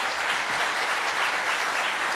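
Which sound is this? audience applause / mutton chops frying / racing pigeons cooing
audience applause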